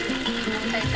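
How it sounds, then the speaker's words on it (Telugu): Mustard seeds, green chilies and curry leaves sizzle in hot oil for dal, giving a steady, close hiss and crackle while a person speaks over it. "అందులో కొద్దిగా ఆవాలు, పచ్చిమిర్చి, కరిపత్త వేయాలి."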